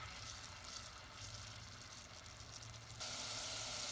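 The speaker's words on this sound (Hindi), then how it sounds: "जब प्याज हमारे थोड़े से भून जाए, थोड़े से मज़ीद फ्राई हो जाए" Blended onion paste frying in a pan for kofta curry, a steady close sizzle with no talk, growing louder near the end.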